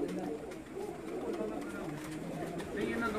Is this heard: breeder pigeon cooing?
yes